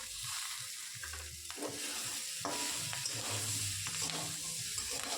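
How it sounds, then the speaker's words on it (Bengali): Cauliflower and peas frying in a pan, a continuous sizzle with scraping stirring strokes close by, no talk. "এবার এই সব সবজিগুলোকে আমি কিছু সময় ভালোভাবে ভেজে নেব।"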